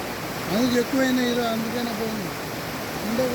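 Water gushes from a large leak in the Telugu Ganga canal, flowing on toward the Penna river, a steady loud roar heard throughout beneath a voice speaking.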